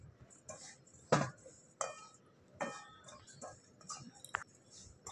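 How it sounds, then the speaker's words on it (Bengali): Flattened rice (chire) is dry-fried in a pan, giving faint, sparse scraping clinks and light rattles as the spoon stirs the grains, with quiet gaps in between. "আবারও কিন্তু এক মুঠো চিড়ে আমি এর ভিতরে দিয়ে দেবো, দিয়ে কিন্তু বেশ ভালো করে এর সাথে ভেজে নেব"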